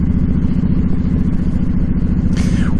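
Motorcycle riding along a winding road around Upper Greenwood Lake, New Jersey: a loud, close, steady rumbling engine with pulsing low thrum and wind, plus a brief higher whoosh near the end.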